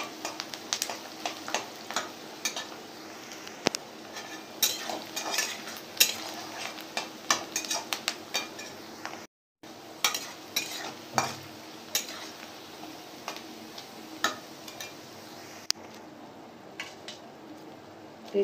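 Onions frying in a pan for a spiced paneer curry, with a steady sizzle broken by frequent spoon scrapes and clinks against the pan and one brief dropout partway through.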